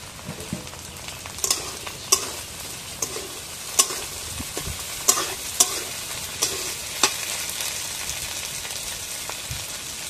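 Dried shrimp and taro stolons stir-fry in a hot pan, a continuous close sizzle broken by sharp, irregular scrapes and clacks of a spatula stirring.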